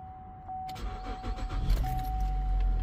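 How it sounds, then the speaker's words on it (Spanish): A 2009 Chevy Traverse engine cranks and catches in the cold, with a brief key jingle and a steady warning chime before it settles into a close, steady idle. "Ya nomás voy a prender el carro para que"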